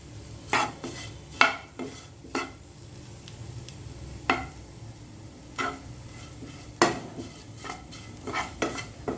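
A spoon stirs spiced potato fry masala in a pan, producing repeated distinct scraping strokes at uneven intervals over a soft sizzle, close up and without speech.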